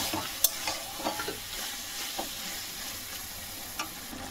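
Salt and turmeric being stirred in a frying pan while cooking a hilsa fish head with taro leaves, a faint steady sizzle broken by a few soft scraping clicks of the spoon, with no talking.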